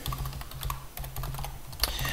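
Rapid, irregular clicks from a computer keyboard as an email address is typed during Proxmox virtualization setup. The keystrokes are close and fairly crisp, with short pauses between bursts and no talking.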